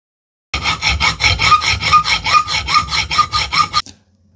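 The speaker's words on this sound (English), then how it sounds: "So let me just go and cut this off now and tidy up those ends" Hand sawing through a small metal part from a 5-inch gauge model locomotive held in a vise, about fourteen steady back-and-forth strokes, loud and close, ending abruptly.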